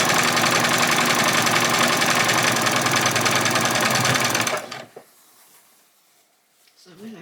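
Loud, steady whir of a sewing machine stitching a hem for spring outfit ruffles, running continuously for about four and a half seconds before cutting off into near quiet with a faint rustle at the end.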